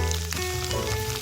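Battered freshwater shrimp sizzle and crackle densely in hot oil, a loud, continuous frying hiss with bubbling close by and a steady hum underneath.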